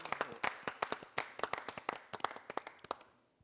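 Audience applause at a tribute for the late former Ivorian president Bédié: a steady run of sharp, close handclaps, dense and uneven, fading near the end.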